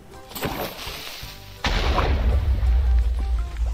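A creeper blows up in Minecraft: a sudden loud blast partway through, then a dense rumbling roar that lingers to the end, after a quieter stretch of softer noise.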